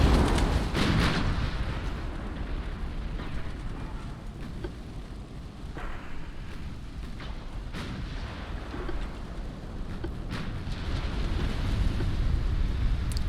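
Naval guns from warships in Ultimate Admiral Dreadnoughts, including light cruisers in an 1890s-era battle, boom in a dense, continuous barrage of overlapping heavy blasts and rumbling impacts, loud and sustained with sharper cracks scattered throughout.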